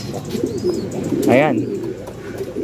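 Racing pigeons cooing close by, a soft warbling coo rising in the middle over a low murmur of birds, while someone briefly speaks.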